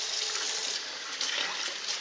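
Tap water runs steadily while raw chicken breast is washed in a kitchen, a continuous close hiss with slight splashy variations and no talking.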